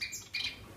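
Java sparrows (padas) give two short, high, squeaky calls in quick succession inside an aviary, close and fairly clear.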